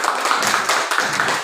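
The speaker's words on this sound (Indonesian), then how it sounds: "tepuk tangan untuk nomor 1 yuk" A group of students in a classroom lesson clap their hands together in a quick, steady, rhythmic series of claps, close and fairly loud, with no talking.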